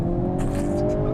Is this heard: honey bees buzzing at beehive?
no